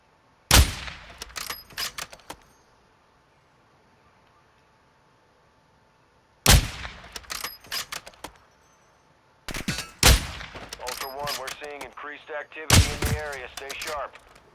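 Bursts of video game gunfire from a White Lotus faction mission in a mall, sharp loud volleys separated by quiet gaps, with a voice speaking between the later shots.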